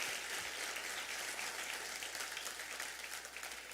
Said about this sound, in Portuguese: Pode aplaudir o Senhor em nome de Jesus.